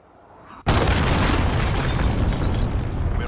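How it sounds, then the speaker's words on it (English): A cruise missile strike in the video game Modern Warfare (2019) detonates with a sudden, loud boom, then a thick rumbling roar that lingers and fades slowly. "Allied cruise missile launched."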